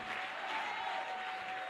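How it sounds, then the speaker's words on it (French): A church congregation at a French-language revival service applauds in a steady, dense wash of clapping that fills the whole moment with no break. "Une main d'acclamation"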